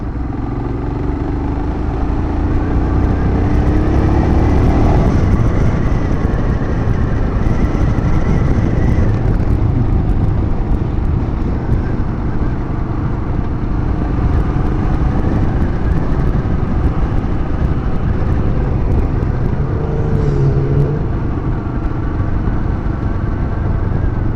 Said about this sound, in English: This is another popular meeting place for bikes and souped up cars.